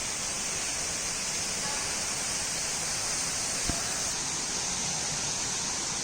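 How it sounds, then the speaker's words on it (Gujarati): Water falling at the Medha waterfall near Songadh, running low, makes an unbroken broadband roar, steady and fairly loud, with a single short tap midway and no speech. "તમે જોઈ શકો છો આ પાણી પડે છે."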